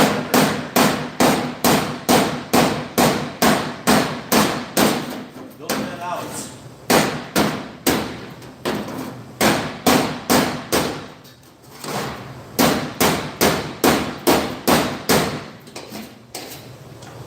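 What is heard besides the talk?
hammering out metal low spot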